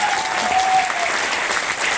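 An audience at a talk claps steadily, with dense, even applause throughout and no voices over it.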